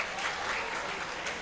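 Steady applause from a crowd, a continuous patter of many hands clapping at moderate volume throughout.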